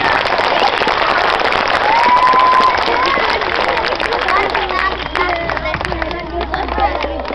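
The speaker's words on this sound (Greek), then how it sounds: "Ένα χειροκρότημα" Crowd applause for a wheelchair athlete fills a room, a dense clatter of many hands clapping, close and lively, with voices and a brief whistle-like tone mixed in, easing slightly toward the end.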